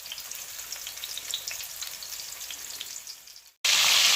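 Pork steaks browning in hot oil, cooked in batches for a smothered pork chop dish, give a steady crackling sizzle with bright spitting pops, close up, until a brief dropout near the end gives way to a sudden louder hiss.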